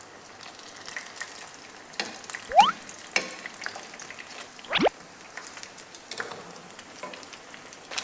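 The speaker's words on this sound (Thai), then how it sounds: "ตอนนี้นะครับเราก็จะมาทอดตัวโทงคัตซึของเรา เราก็จะใช้ไฟกลางนะ ค่อยๆหย่อนลง" A tonkatsu pork cutlet deep-fries in oil over medium heat with a steady soft sizzle and crackle, broken by a few sharper pops and bubbling splashes.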